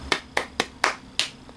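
Five sharp hand claps in a steady, evenly spaced rhythm, close and crisp, with no voices.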